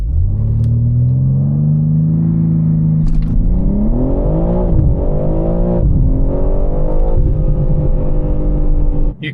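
A BMW M3 CS Touring's engine rumbles loud and close, its revs climbing and swelling in a steady drone with a brief lift partway through, heard alone without voices.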